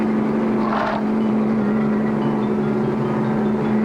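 A steady, droning engine hum from an armored car driving in an animated cartoon, holding an even level throughout with a brief faint burst of noise early on.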